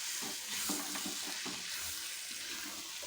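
Gongura pickle cooks in oil in an iron kadai with a soft, constant sizzle and hiss. Faint stirring clinks surface now and then, and the whole sound stays quiet and close with no voices.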